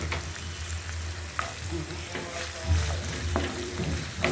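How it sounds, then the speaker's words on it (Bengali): Chopped garlic frying in a hot pan, a steady close sizzle with a low hum beneath and a few sharp stir scrapes and clicks, no voices. "এই যে রসুন কুচি দিয়ে দিচ্ছি"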